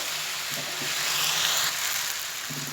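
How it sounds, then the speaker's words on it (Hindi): Boiled macaroni mixed into vegetables in a pan gives a soft continuous sizzle with light stirring scrapes, close and moderately quiet, no speech. "मैं इसके अंदर ये जो मैंने मैक्रोनी बॉयल करके रखी हुई हैं ये ऐड कर रहा हूँ। तो मैं अच्छी तरह मिक्स करता हूँ।"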